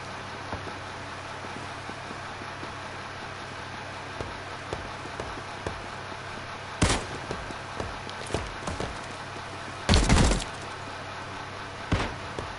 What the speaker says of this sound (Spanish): Sí, escucho muchos disparos